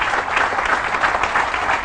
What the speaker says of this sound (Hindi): इस बात पे जोरदार तालियां होनी चाहिए